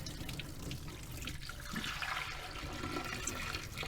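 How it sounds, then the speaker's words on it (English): Water gently poured out of a small container during a knitting soak before blocking, a steady close splashing pour that runs the whole time with no talk over it. "as gently pour out our water"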